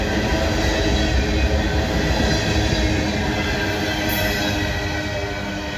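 A freight train rolls past in Abbeville, South Carolina, a loud, steady close rumble of wagons and wheels with a faint squeal, continuous throughout and slowly easing in level near the end.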